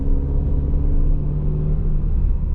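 A Ferrari Portofino with a twin-turbo V8 drives past, giving a deep, steady engine rumble and road drone heard from inside or close by for a few seconds.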